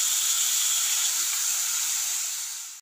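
Tomatoes sautéing in a pan for a jackfruit seed gravy give off a steady, close hiss of sizzling and steam that holds level throughout and fades slightly at the very end.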